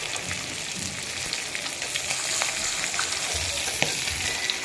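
Fish frying in a pan gives a loud, steady, crackling sizzle with occasional stirring scrapes, close and continuous throughout, with no voices.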